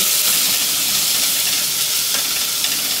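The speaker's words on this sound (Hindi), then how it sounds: "तो अब मैं जो 2 प्याज को कद्दूकस की थी, अब इसमें डालकर मैं इसे फ्राई कर रही हूँ।" Grated onions frying in hot oil in a pan give a loud, continuous, close-up sizzle with a bright hiss that stays even throughout, with no talking.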